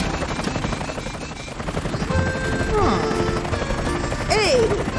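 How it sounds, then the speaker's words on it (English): A cartoon helicopter flies in a children's emergency-vehicle animation, its rotor chopping steadily for several seconds while whooshing swoops and effects rise over it. "Careful, Super Helicopter. No need to rush"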